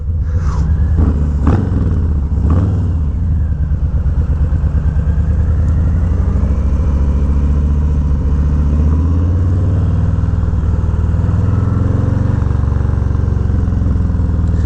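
Harley-Davidson Low Rider S with a quarter fairing cruising at highway speed, its V-twin engine a steady, loud low rumble blended with constant wind roar, with a few brief revs near the start.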